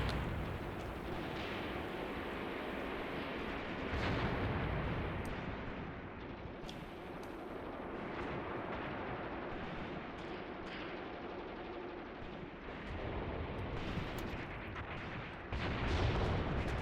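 Units firing in a Graviteam Tactics battle, a continuous rumble of distant gunfire and artillery-like booms rolling on at moderate loudness with occasional sharper cracks, no speech.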